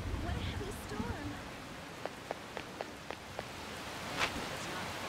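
Rain in the Persona 5 Royal video game falls as a steady hiss dotted with crisp, evenly spaced droplet ticks, with a few faint voiced sounds mixed in early on.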